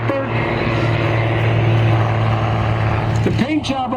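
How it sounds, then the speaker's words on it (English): A classic airplane fitted with a modern engine, an original aircraft in a World War II-style paint scheme at a 2022 World War II Weekend event, droning loud and close with a steady engine tone. "It's a classic airplane with a modern engine."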